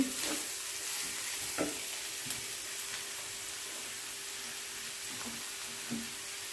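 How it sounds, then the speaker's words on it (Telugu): Turmeric-boiled cabbage added bit by bit to a hot frying pan and stirred, with a steady sizzle and occasional scraping and clinking of the spoon, close and with no voices. "ఈ క్యాబేజ్ అంతా కొంచెం కొంచెం వేసుకుంటూ కలుపుతూ ఉండాలి"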